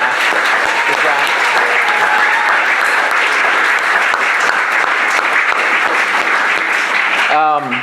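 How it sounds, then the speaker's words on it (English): A large crowd claps loudly and continuously at a community TV producer awards night, thanking the event staff. The dense, even applause lasts nearly eight seconds, and a voice starts just as it ends. "can we give a round of applause to Core and Blasta and the whole staff?"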